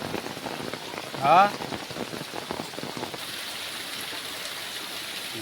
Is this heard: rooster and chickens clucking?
no